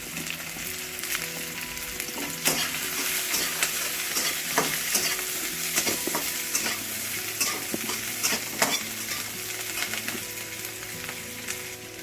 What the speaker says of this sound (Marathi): आणि आता आपण कांदा हे तळतोय।